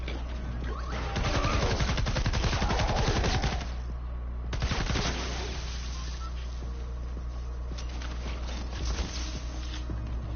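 Rapid automatic bursts from the Grave Digger weapon in a video game, two sustained volleys of fast repeated shots over a steady low hum, fairly quiet overall.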